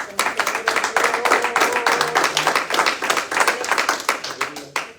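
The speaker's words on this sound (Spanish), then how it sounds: "Denle un aplauso al Señor." Church congregation clapping for the Lord during a sermon, a dense run of hand claps with a rhythmic, tapping quality that continues steadily throughout, with voices mixed in underneath.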